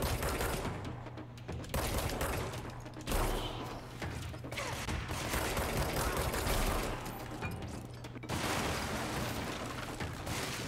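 Rapid machine gun fire in a shooting video game, dense sustained bursts broken by short pauses, loud and continuous across the scene.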